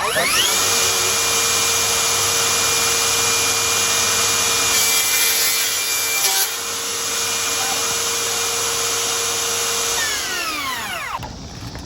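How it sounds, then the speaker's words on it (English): A power sander works the rough ends of wooden support posts for a water tank and countertops, running as a loud, steady whir for about ten seconds before spinning down. "now he's gonna sand the ends of each post just so they're not so rough"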